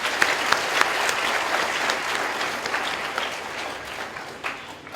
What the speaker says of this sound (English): Everyone, a round of applause for our parents.